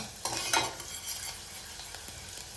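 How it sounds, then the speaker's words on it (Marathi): Chopped onion sizzles in a hot pan while a spoon stirs it, with scraping strokes near the start and a steady frying hiss that continues quietly throughout. "कांदा चांगला लालसर होईपर्यंत फ्राय करून घ्यायचा आहे आपल्याला"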